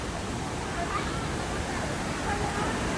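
Khlong Lan waterfall in Kamphaeng Phet, swollen with rainy-season water, gives a steady, broad roar of falling water that fills the scene evenly for a few seconds, with faint voices in the background.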